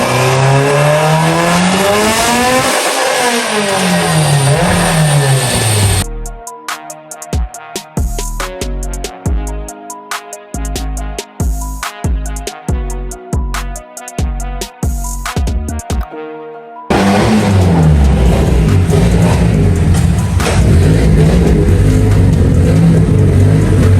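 A tuned Mitsubishi EvoX on its stock block accelerating hard on a test drive, its engine rising in pitch through the gears. Loud rapid rhythmic thumping fills the middle stretch before the rising engine roar returns.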